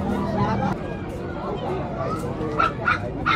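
Pomeranian dogs bark and yip at a weekly pet market in Bocaue, with close, repeated high yaps over steady crowd babble and people talking.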